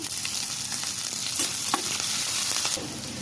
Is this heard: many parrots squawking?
no